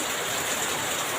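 Steady rain falls outdoors on potted plants for sale, a dense, continuous hiss with no pauses, fairly loud and close throughout.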